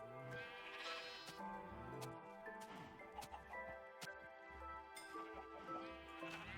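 Repeated Minecraft sheep bleats on Xbox 360, a run of wavering nasal calls spread across several seconds, close and prominent, with soft thumps and faint animal noise between them.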